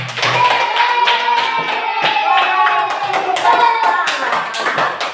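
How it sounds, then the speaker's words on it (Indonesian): A fifth-grade class of primary school children clapping their hands together during an Islamic religious education lesson, a dense run of close, steady claps with children's voices mixed in throughout. "Ayo tepuk tangan dulu."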